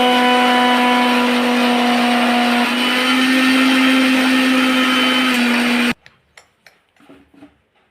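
A mixer grinder blends mint chutney for about six seconds, a loud, steady whirring hum that stops abruptly, followed by a few soft clinks and taps.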